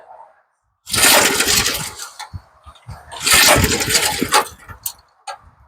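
A small MTD tiller engine is cranked and catches on full choke, then runs in two loud rough bursts separated by a brief sputtering lull.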